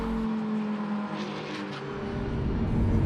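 A Lamborghini Huracan at the Magny-Cours circuit gives a steady droning engine note with a distant hum, holding at moderate volume and rising slightly toward the end, with no talk.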